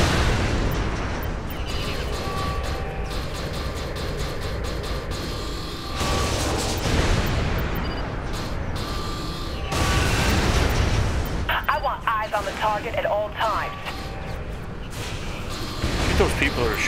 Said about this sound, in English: I think those people are shooting at us.